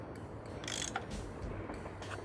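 Soft metallic ratcheting and clicking from a tool turning bolts in the Nancy Drew game Last Train to Blue Moon Canyon, a few brief bursts over a steady low background, no voices.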